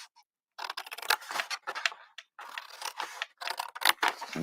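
Scissors make angled cuts through paper squares for a festive craft box, giving a run of crisp snipping bursts close up with brief pauses between cuts.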